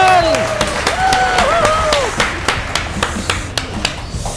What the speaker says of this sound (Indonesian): Bang. Tepuk tangan, Bang.